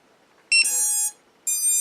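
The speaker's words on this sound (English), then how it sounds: "Give it a second, do its little beeps." Startup beeps from a racing quadcopter drone right after its battery is plugged in: a bright tonal chirp sequence lasting about half a second, a short pause, then another sustained beep, close and clear with no talking.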